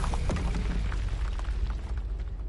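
A Confringo fire spell explodes in the video game Hogwarts Legacy, giving a loud, deep booming blast with crackling bursts that rumbles on for a couple of seconds, with no voices.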